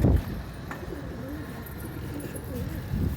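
Low, soft cooing of a pigeon repeats close by, with faint background noise and a brief rustle at the start.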